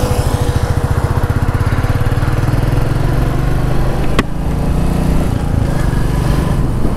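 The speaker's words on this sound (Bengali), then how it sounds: "দেখা যাক তাহলে একটু হাইওয়েতে চালিয়ে যে কেমন এক্সপিরিয়েন্স হচ্ছে এই রয়্যাল এনফিল্ড ক্লাসিক 350 চালিয়ে" A Royal Enfield Classic 350 Stealth Black motorcycle riding on a highway, its engine a loud, steady, rapid thumping drone heard up close without pause, with no voices.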